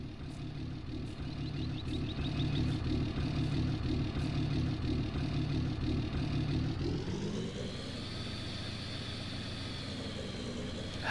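Truck engine in Farming Simulator 2019 running steadily with a loud, even mid-range drone, then rising in pitch around seven seconds as it accelerates, continuing strong to the end with no talk.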